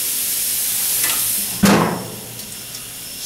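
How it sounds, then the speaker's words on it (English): Pork chops searing in a hot pan give a steady broadband sizzle, with a sharp louder burst of crackle partway through as meat shifts in the oil, then settling back to an even hiss, with no voices. "Get a good sear on them."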